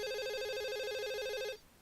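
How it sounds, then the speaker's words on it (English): A mobile phone rings in the visual novel game Katawa Shoujo, a steady electronic warbling ringtone for about a second and a half before cutting off abruptly. "My mobile phone starts ringing."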